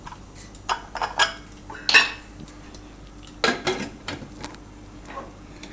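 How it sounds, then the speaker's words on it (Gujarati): A pressure cooker lid is closed on a pot set on a gas stove, giving a handful of sharp metallic clanks and clatters, close and fairly loud, with short pauses between. "હવે કુકરનું ઢાંકણું બંધ કરી દેવું."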